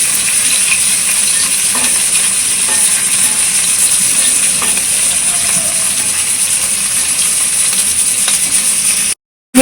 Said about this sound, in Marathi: मस्तपैकी अशी मिरची तडतडते